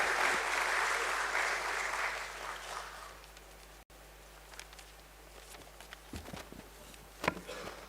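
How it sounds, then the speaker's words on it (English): Audience applause at the BSE listing ceremony for Arkade Developers Limited, loud sustained clapping from a crowd that fades out, followed by a few scattered claps. "a round of applause for Mr. Amit Jain, everyone."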